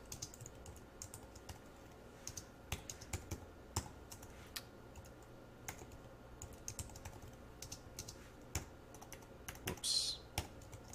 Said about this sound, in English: Let me type that out.